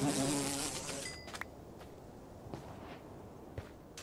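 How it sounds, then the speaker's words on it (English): Insect buzzing in the Minecraft Create Stellar modpack, a loud whine at the start that fades after about a second, followed by faint scattered footsteps and small clicks. "Oh no, a mosquito is sucking my blood."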